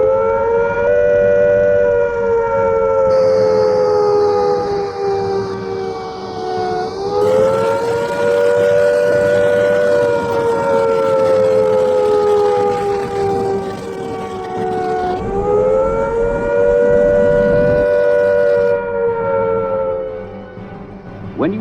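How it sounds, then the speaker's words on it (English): An air attack warning civil defense siren wails loudly and steadily, its pitch sliding down and back up in slow rising and falling cycles, with no voices over it. "Here is a reminder of what the air attack warning sounds like."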